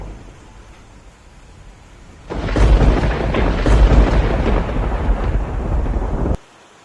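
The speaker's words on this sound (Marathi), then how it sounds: "अरे बाप लय जोरात जोरात गरजू राहिले आता पाऊस पण लय जोरात येऊ राहिलाय" A loud roll of thunder breaks in abruptly and rumbles heavily for several seconds over a steady wash of heavy rain in a Maharashtra village, then cuts off.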